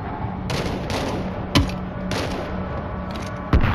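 Gunfire in the zombie shooter World War Z during a train stage, with bursts of automatic fire and two heavier sharp shots cutting through, close and loud.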